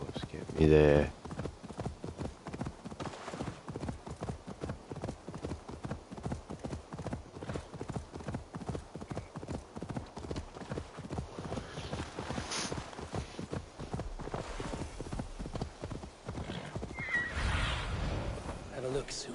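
A horse gallops steadily at close range in Assassin's Creed Valhalla, rapid rhythmic hoofbeats running throughout, with a loud neigh near the start and another near the end.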